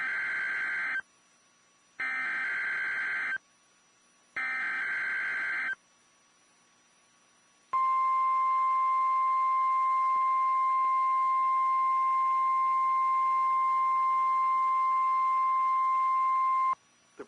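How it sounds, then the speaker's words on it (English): A National Weather Service warning alarm tone test plays as three short bursts of a steady electronic tone separated by silence, then one long, loud, continuous tone that holds for about nine seconds before cutting off. "The preceding was a test of the National Weather Service warning alarm tone."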